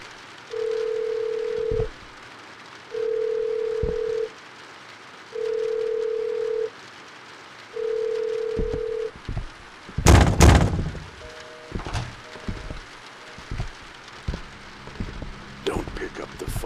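A telephone rings in the horror game In The Facade We Trust, four evenly spaced ring bursts with pauses between them, followed by loud sharp bangs and clattering game effects.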